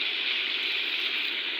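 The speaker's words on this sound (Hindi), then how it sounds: "तो थोड़ा सा मैंने इसके अंदर पानी ऐड किया" Water is poured into a cooking pot of spices for turnip and meat curry, a close, steady gushing wash that runs evenly without pause.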